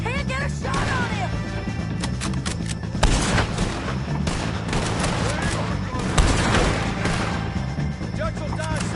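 Gunfire in Red Dead Redemption 2 during a fight with O'Driscolls, loud and continuous, with repeated rifle and pistol shots and heavier booms over a busy game soundscape, and a voice speaking under the shooting.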